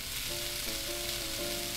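Food frying in a pan in the Cooking Simulator video game gives a steady, even sizzle with a faint tonal hum beneath, moderately quiet and without any talking.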